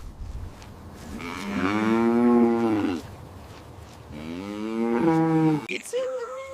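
A cow gives two long, loud, close moos separated by a brief pause, with a short higher-pitched call at the end.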